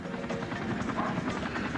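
Military helicopter flying overhead, a steady rotor drone with a fairly even level and a faint choppy texture from start to finish, nothing else standing out.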